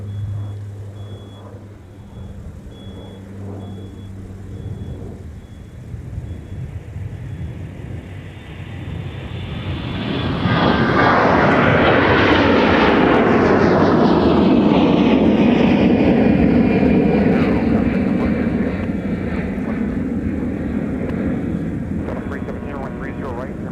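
A Delta airliner bound for Phoenix departs Minneapolis airport. Faint radio voices are heard at first, then the jet's roar swells to a loud, sustained rush as it passes close and stays strong until the end.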